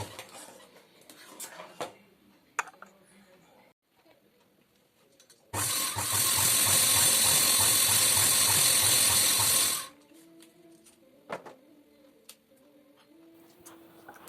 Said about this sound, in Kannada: ಖಾಲಿ ಆಯಿತು, ದಾರ ಸುತ್ಕೋಬೇಕು.